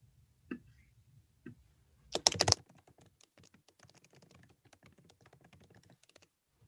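Quiet typing on a computer keyboard, with a few scattered soft clicks, one brief louder clatter, then light, steady tapping.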